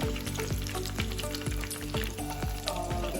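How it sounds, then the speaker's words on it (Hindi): Stuffed capsicum frying in a pan while being turned, a close, moderate sizzle punctuated by regular spatula knocks and scrapes about every half second. "अब इसको चारों तरफ से चला के पका लेंगे।"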